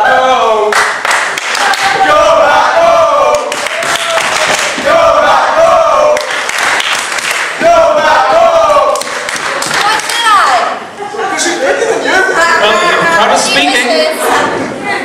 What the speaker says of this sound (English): The crowd are speaking.